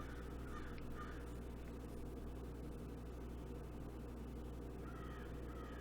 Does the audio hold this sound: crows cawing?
yes